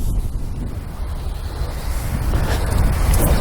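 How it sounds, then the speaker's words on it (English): Heavy wind buffets the microphone continuously on a golf practice tee, a loud low roar with gusts that swell toward the end; no voices. "so windy here today, man."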